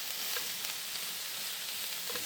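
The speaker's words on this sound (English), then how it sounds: "Move this around some in the wok" Vegetables for spring rolls sizzle and crackle in a hot wok as they are stirred, a steady bright frying hiss with small pops and scrapes throughout.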